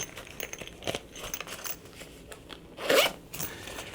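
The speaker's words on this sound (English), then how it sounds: "You can zip it up and store it." A zipper closes on the soft case of a camera flash trigger in a series of quick, soft rasping pulls, ending in one louder, sharper zip near the close, with no talking.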